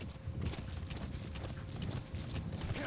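Horse hooves clip-clopping in Metal Gear Solid V: a faint, steady trotting rhythm of hoof beats over a low rumble, without talk.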